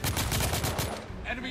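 Rapid bursts of gunfire from the video game The Order: 1886 hammer away steadily and loud, then thin out toward the end.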